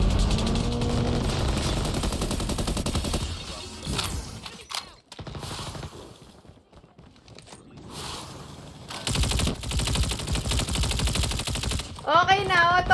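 Rapid bursts of automatic gunfire from a shooting video game, loud and dense through most of the stretch with a short lull in the middle, while a person talks over it.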